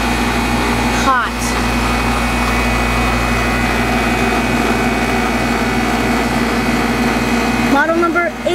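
A 1999 York Olympian 3.5-ton central air conditioner runs with a steady, close, humming fan and compressor drone, continuous and even throughout with no talk.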